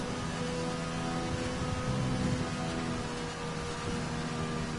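Rain in an F1 racing video game at the French circuit forms a constant wash of noise, steady and moderately loud, with faint tonal engine hum underneath and no talking.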